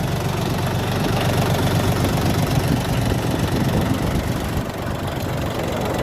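A Dongfeng 244 Lux tractor diesel engine idles steadily close by, a continuous knocking chug at even volume throughout.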